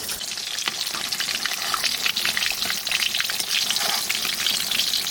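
A large black carp cut into pieces sizzles and fries steadily in hot oil, cooked red and spicy, with a dense, continuous crackle and occasional stirring close by.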